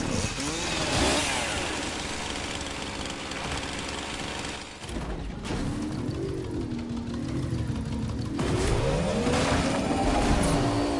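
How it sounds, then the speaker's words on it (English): In Fortnite, a car engine revs and drones with shifting pitch, joined by the rasping buzz of a chainsaw, loud and continuous, with busy game effects and no talk. "He got out of his car with his chainsaw."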